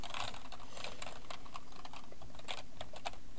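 Fast, steady typing on a computer keyboard as a security code is entered to sign in to a cryptocurrency exchange, a close run of crisp key clicks with no speech.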